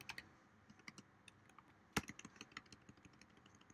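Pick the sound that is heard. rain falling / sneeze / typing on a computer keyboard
typing on a computer keyboard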